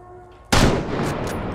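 A loud gunshot from a first-person shooter game, Insomnia: The Ark, bursts out of a quiet backdrop, followed by a long ringing, rumbling decay with a couple of fainter echoing reports.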